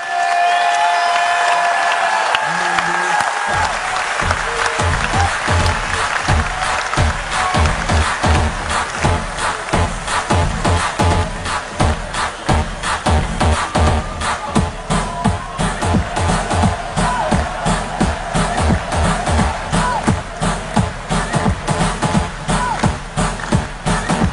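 Opening ceremony crowd for WorldSkills 2023 in Lyon applauds the experts loudly and steadily, with dense sustained clapping after a brief stretch of a voice and music at the start.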